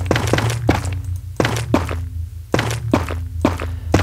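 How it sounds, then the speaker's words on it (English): Shroomlight blocks being placed in Minecraft give hollow, drum-like thunks, about five evenly spaced, heavy hits with short ringing tails, loud and with no voice over them. "It sounds like somebody's hitting like a really big plastic drum."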